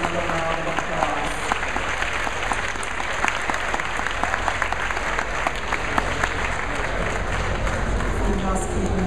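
Sustained applause from a luncheon audience honoring alumni award recipients, steady dense clapping throughout, fairly distant and even, with some talk mixed in.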